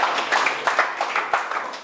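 An audience at a software-testing meetup talk gives a brief round of applause, a moderate patter of hands with a few sharper individual claps standing out, close and fairly steady.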